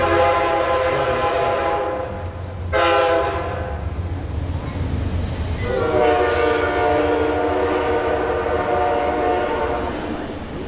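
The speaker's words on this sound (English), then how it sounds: "I guess the train's gonna go through." A train goes through with loud, sustained horn blasts, one brief and one long, over a rumbling rail drone, heard close in an outdoor setting.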